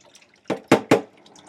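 Water splashes down through a lace-front wig during rinsing, three distinct close splashes in quick succession against a quiet background.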